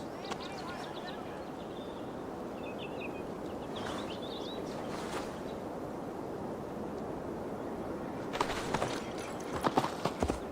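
In Assassin's Creed Valhalla, a horse ridden through a Gloucestershire forest keeps up a steady rhythmic clip-clop of hooves, with light wind and occasional birdsong, and a character's voice talks over it.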